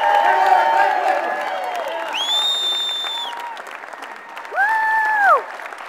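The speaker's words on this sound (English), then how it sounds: "Give them a big round of applause." A crowd at a party central committee meeting applauds labor union members, with continuous clapping and some cheering, while whistles or voiced whoops rise and fall above it.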